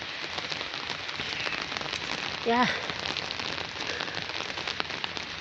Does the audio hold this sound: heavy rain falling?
yes